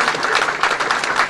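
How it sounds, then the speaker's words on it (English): Audience applause aboard a Queen Mary 2 and Queen Elizabeth ocean liner gathering in Sydney, a dense wash of many hands clapping, loud and close, brief and sustained throughout. "We should applaud that"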